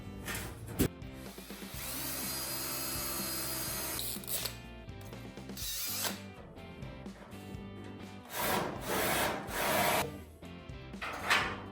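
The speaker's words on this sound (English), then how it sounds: "now let's drill holes in this for our latches" A power drill bores holes through a roadster body panel in several loud, close bursts of whining, grinding drilling, separated by short pauses and scraping handling noises.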